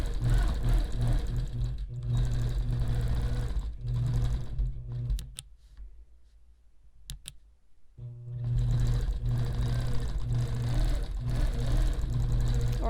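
A sewing machine runs in fast, steady stitching bursts while quilting retro blocks, stopping for a few seconds in the middle before starting again, with a voice talking over it.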